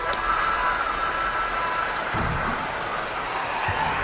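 Arena crowd cheering after a victory in the basketball game NBA 2K24, a steady, loud wash of crowd noise and applause that holds for the whole stretch, with faint low thumps near the middle.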